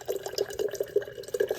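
Water trickles from the spigot of a Berkey gravity water filter dispenser, a close, quiet run of irregular splashes and drips into a container, with no talking.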